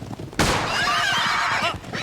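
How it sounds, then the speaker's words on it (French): An out-of-control horse lets out one loud, long neigh that rises into a quavering whinny and holds for well over a second, close and prominent with no talk. "Mon cheval est hors de contrôle!"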